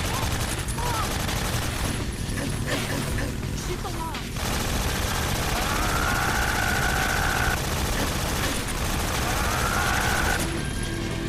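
Rapid bursts of gunfire from a weapon in the video game Metal Gear Solid 3, with shots fired as quickly as possible and instant reloads, crackling continuously over dense in-game noise and music.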